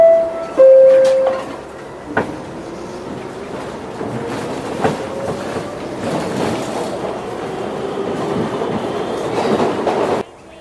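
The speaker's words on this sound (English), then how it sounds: "T for train." A train rolls past with a steady rumbling clatter, a brief horn-like tone at the start, and rising wheel noise that cuts off near the end.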